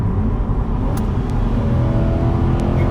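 Inside a 2020 C8 Corvette Stingray, the engine hums steadily and loud as the gearbox drops down toward its lowest gear, a continuous close rumble with no talking.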